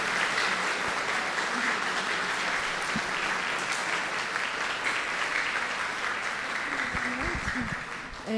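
Sustained applause from an audience at a Spiritist doctrine course, steady and full for several seconds, with a few voices mixed in before it starts to fade.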